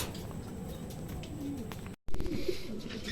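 A racing pigeon arrives home during a 250 km derby race at San Narciso, Quezon, with soft pigeon cooing close by over a busy outdoor background and a brief cut midway.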